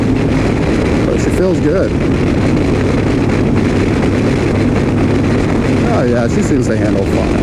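A 2015 Harley Davidson Street Glide motorcycle rides on the road, with a loud, continuous engine drone and heavy wind rush throughout, while the rider talks over it.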